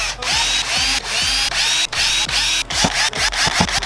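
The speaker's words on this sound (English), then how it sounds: "And I'm going to drill my holes." A power drill whirs continuously at close range, its pitch dipping as the bit bites into material, repeated quick surges while drilling holes during a car stereo install in a Toyota Tacoma.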